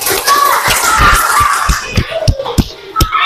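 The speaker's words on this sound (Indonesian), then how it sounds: "Mulai tepuk tangan dulu." Children clapping their hands in a classroom group, a noisy patter of claps with chatter and giggles, then thinning to a few sharp individual claps.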